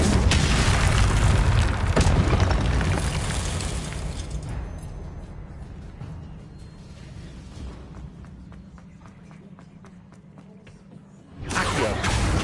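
A loud fiery blast from the Confringo spell in a wizarding video game bursts at the start and rumbles down into a long, low decaying roar. A second boom hits near the end.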